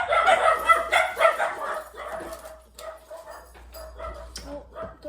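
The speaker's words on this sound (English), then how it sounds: "Oh, doggo's going on a barking frenzy." A dog barks in a frenzied volley, loud and close at first with quick repeated yips, then easing into scattered, quieter barks and whimpers.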